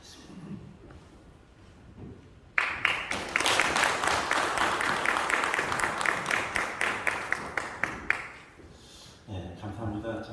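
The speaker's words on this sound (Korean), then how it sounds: "나오실 때 박수로 좀 맞이해주시면 감사하겠습니다." At a church mission seminar, the audience breaks into rhythmic applause after a quiet start to welcome a pastor to the stage, then it fades as the room settles.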